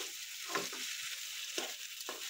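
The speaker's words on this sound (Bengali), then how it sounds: "এইদিকে হচ্ছে মিষ্টি কুমড়ো ভাজা" Sweet pumpkin fries in a pan with a steady, close sizzle, broken by a few brief stirring scrapes.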